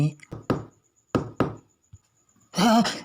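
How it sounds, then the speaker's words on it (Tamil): Someone knocks on a door in a Tamil comedy scene: a few sharp, close raps in quick pairs on a quiet background. A voice then starts talking. "யாரோ கதவை தட்டுறாங்க"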